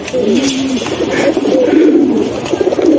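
Caged pigeons coo nearby in low, rolling murmurs, several calls overlapping steadily over about three seconds with faint rustling behind them.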